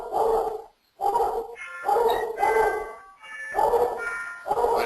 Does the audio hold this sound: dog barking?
yes